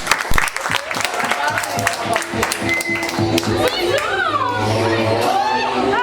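A live audience breaks into applause, with a burst of sharp claps at the start that settles into a thinner patter under a crowd's chatter and a person speaking loudly.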